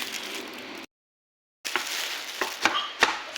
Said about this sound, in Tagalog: hiwain ko muna tong sibuyas, bawang